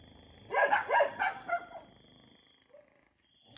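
A dog gives a short run of four or five quick barks at moderate distance, followed by a faint yip and near silence.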